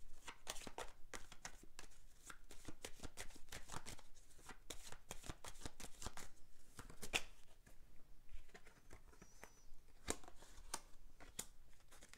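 Oracle cards being shuffled for a tarot-style reading, a dense run of quick crisp riffling flicks and slaps that carries on steadily throughout, close up and with no voice.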